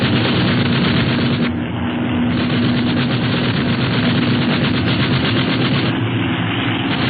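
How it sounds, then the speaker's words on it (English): Radio-drama gunfire from an aircraft plays over the steady roar of a plane engine, with rapid repeated bursts sounding loud and continuous throughout, without voices. "Okay, start shooting."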